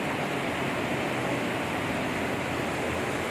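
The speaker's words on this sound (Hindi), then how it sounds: "ये यहाँ पे एक नदी बहती है, तमसा नदी बोलते हैं, उसकी नेचुरल आवाज़ है।" The Tamsa river flows steadily near a Shiva temple at Tapkeshwar, Dehradun, a constant broad rushing wash of water filling the space without pause or voices.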